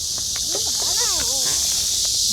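Cicada buzzing outdoors during a cicada hunt, a steady dense high drone running throughout, with a few faint chirps and background voices over it.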